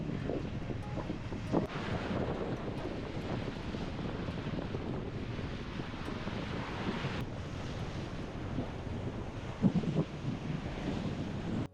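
Steady wind and rolling waves rush past a sailboat running downwind under genoa across an atoll lagoon, a continuous broadband roar with a few brief gusts and splashes, no voices.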